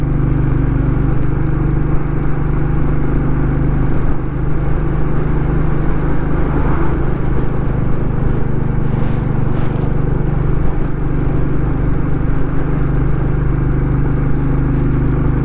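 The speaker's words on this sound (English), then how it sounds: "This engine sounds lovely as it reverbs off the two walls at the side of us." A Royal Enfield Classic 350 motorcycle engine drones steadily with a deep rumble reverberating off two walls alongside, loud and close, with no voices.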